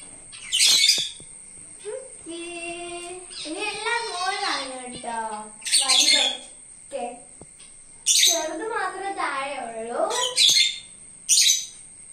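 Pet finches in a home birdcage chirp in repeated bright bursts close by, alongside a voice and other sung or spoken vocal sounds throughout.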